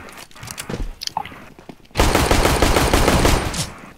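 Rapid video-game gunfire bursts out loud and sustained after a quieter stretch of clicks and scattered shots, automatic fire rattling continuously for the last two seconds.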